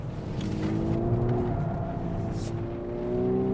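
A 2024 Volkswagen Atlas engine climbs in pitch under acceleration, a steady rising drone with whine from inside the cabin, heard alone without talk.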